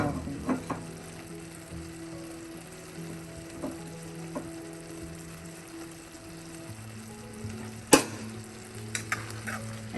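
Chicken liver with coriander leaves frying in a pan for a Kerala-style vattichathu: a low continuous sizzle broken by a few sharp stirring clacks of a utensil against the pan, one louder knock near the end.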